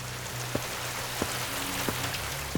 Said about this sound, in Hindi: अरे ये बारिश कैसे शुरू हो गई?